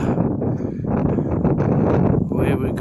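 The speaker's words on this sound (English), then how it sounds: "Really windy." Strong wind gusts at the top of a chilly hill on the Camino Francés, a steady loud rush buffeting the microphone throughout, with a person talking over it.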